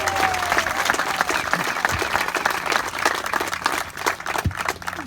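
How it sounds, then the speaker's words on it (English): An outdoor audience at a pickleball court ribbon cutting in Ocean Pines, Maryland claps loudly and steadily, with a few whistles and cheers mixed into the sustained applause that tapers slightly near the end. "give them a round of applause"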